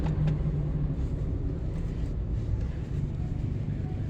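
Steady low rumble of a car moving through heavy traffic, heard from inside the cabin, continuous and fairly loud with a little wind noise and no clear voices.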